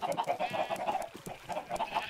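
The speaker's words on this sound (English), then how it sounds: "Chickens!" Chickens in the Minecraft video game cluck in quick, repeated bursts, a close and steady series of short game-animal calls with no talking.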